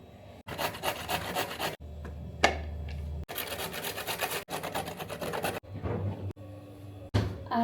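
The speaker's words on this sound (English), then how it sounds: "I still have got one more carrot, one potato, ginger, and I think half of a zucchini more to grate" Carrot, potato, ginger and zucchini grated by hand, a rough rasping scrape repeated in quick back-and-forth strokes, broken by short pauses between bursts, close and fairly quiet.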